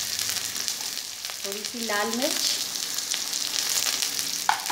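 Onions sizzle steadily in hot oil with curry leaves and cumin for a spicy chana dish, a constant close crackle as someone speaks briefly over it.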